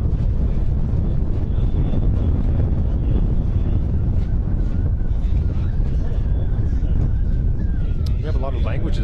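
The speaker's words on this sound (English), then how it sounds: "It's a wind delay. Too much wind." Strong wind buffeting the microphone at a racing venue during a wind delay, a loud continuous low rumble with gusting surges, while people talk throughout.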